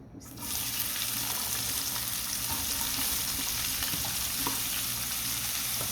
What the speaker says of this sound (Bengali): এখন আমি এই তেলেই পেঁয়াজ দিয়ে দেবো।